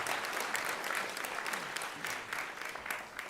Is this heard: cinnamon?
no